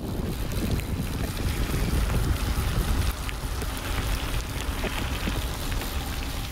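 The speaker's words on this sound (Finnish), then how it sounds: "Ei me sateelta säästytty." Rain shower on a gravel bike trip in Ruka, a dense continuous patter and rush of falling rain mixed with wind buffeting the microphone, steady and fairly loud.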